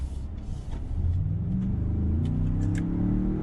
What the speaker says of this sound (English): we're going to give it a little bit of an acceleration run here in a second